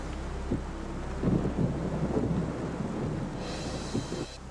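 Rain and a thunderstorm: a constant wash of rain and wind noise with low rumbling thunder swelling in the middle, moderately quiet and with no voices.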